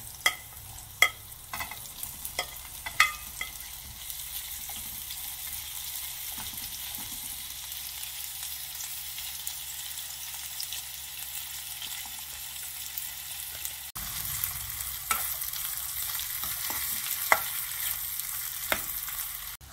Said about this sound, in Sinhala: දැන් සොසේජ් ටික හොඳට බැදුනා